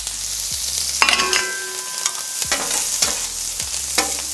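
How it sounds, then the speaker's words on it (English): Red onions fry in oil on a hot stainless steel Napoleon griddle, giving a constant sizzle broken by sharp metallic spatula scrapes and clanks as the onions are stirred and tossed at a steady, uneven rhythm. "We're going to put a little more oil down right here. We're going to throw down some red onions."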